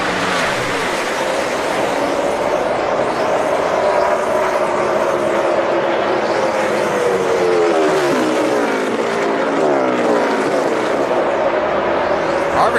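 NASCAR stock cars race through the final lap at Pocono, a loud continuous roar of engines with rising and falling pitch sweeps as cars pass, under steady crowd and commentary-level din.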